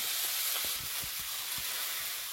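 Bitter gourd and eggplant hit oil tempered with five-spice seeds and fry with a steady, soft hiss, while a few faint low knocks from stirring break through the sizzle.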